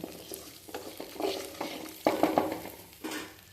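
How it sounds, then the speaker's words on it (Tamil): Coriander and cumin dry-roast in a pan over a low flame while being stirred. A soft, steady sizzle runs under repeated scraping strokes of the spoon against the pan, close up, with no talking. "சிம்லேயே வச்சு வறுத்துக்கலாங்க"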